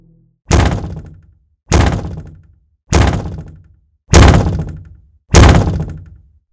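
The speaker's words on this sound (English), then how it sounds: "A heavy bang against our door." Five heavy, evenly spaced thuds strike a door, each a loud booming bang that decays quickly before the next, with no voices present.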